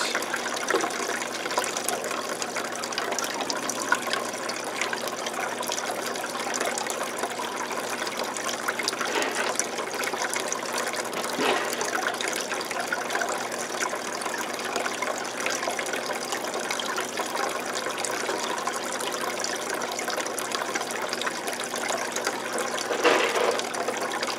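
Steady gushing water runs continuously during a water change on a 125-gallon planted aquarium tank, a constant broadband rush without pauses.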